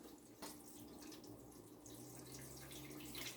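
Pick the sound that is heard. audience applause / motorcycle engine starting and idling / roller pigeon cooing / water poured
water poured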